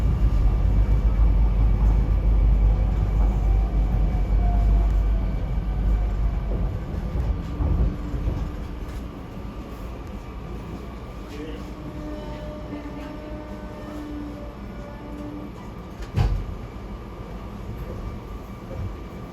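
Commuter train ride on SEPTA regional rail from Philadelphia to Doylestown, a steady low rumble of the railcar rolling along that is loud at first and eases a little, with a brief clank near the end and voices faintly underneath.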